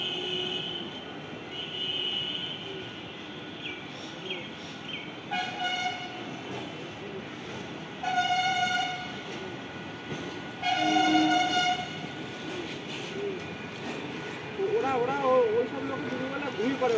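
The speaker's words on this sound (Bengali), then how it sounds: "এটা হচ্ছে 4:16 up galloping Sealdah Krishnanagar local." Alstom EMU galloping local on the Sealdah–Krishnanagar line rumbles past with a steady rail roar and several horn toots, heard close over ongoing background voices.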